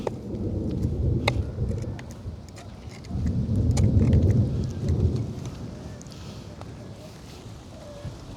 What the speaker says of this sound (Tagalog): Nako, kumukulog.